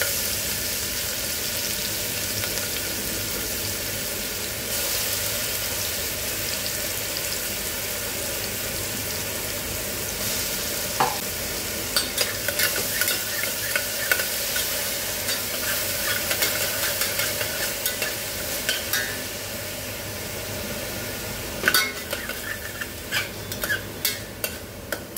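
Onions frying in oil and fat rendered from trotters for paya soup give a steady, close sizzle, with sharper clinks and scrapes of stirring joining in the second half.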